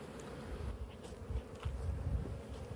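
Honey bees swarming around beehives, a dense, continuous close buzzing drone with individual insects passing near.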